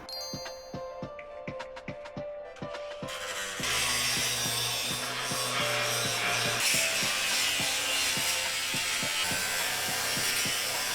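Rhythmic scraping strokes give way to a loud, continuous grinding roar as weld marks are ground off metal pipe and the pipe is cut up close, with no talking.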